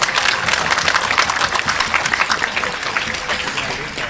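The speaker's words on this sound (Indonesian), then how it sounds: "Dunia tepuk tangan sing banter," An audience at an Islamic religious lecture breaks into steady, loud applause, dense clapping sustained throughout before gradually easing slightly.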